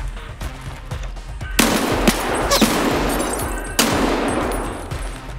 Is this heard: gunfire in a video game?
yes